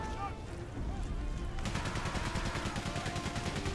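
Rapid bursts of gunfire rattle in quick succession after a quieter opening in the video game Valiant Hearts: The Great War, sounding like automatic weapons firing repeatedly.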